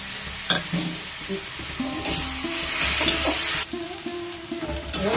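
Taro stolons seasoned with salt and turmeric sizzle in a pan while being stirred, a continuous frying hiss broken by occasional scraping and clinking strokes of the spoon against the pan.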